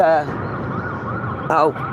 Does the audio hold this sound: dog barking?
no